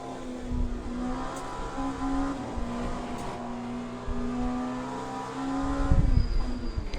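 Race car engines lapping the Bahrain circuit, a gnarly V8 among them, hold a loud, steady drone with rising and falling revs, swelling again toward the end.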